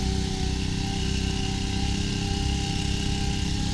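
A leaf blower engine runs at a steady idle just after starting, with a continuous, even drone held close by and no voices.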